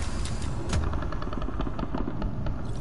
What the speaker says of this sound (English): Limited range ass Froyo blaster!